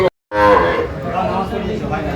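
Sahiwal bull calves at a cattle market: after a brief silence, one long, loud, close moo swells and slowly tapers, with faint market noise behind.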